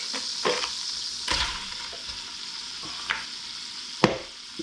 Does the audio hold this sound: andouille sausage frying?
yes